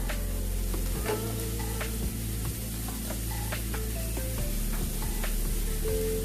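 Onions sautéing in a pan for a Tamil mushroom fry, a loud continuous sizzle and crackle with scattered spoon clicks and stirring scrapes throughout, close up and without talk.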